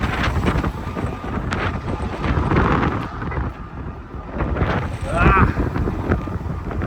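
Strong gusting wind buffets the microphone outdoors while hay is being loaded onto a truck, a loud, rumbling roar that rises and falls throughout.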